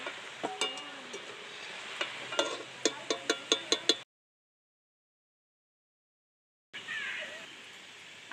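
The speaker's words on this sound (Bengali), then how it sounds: "দেখুন এবার আমি লাল লাল করে ভেজে নেব।" Bengali sesame balls (tiler naru) fry in hot oil, a soft sizzle broken by a series of sharp clicks and clinks of stirring, then a stretch of silence before the bubbling frying resumes.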